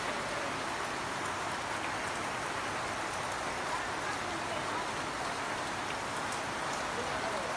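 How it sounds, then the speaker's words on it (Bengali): Heavy rain pours down in a steady, dense hiss that stays even from start to finish, with no breaks or changes in intensity. "হঠাৎ করে আমাদের এখানে অনেক বৃষ্টি শুরু হয়ে গিয়েছে।"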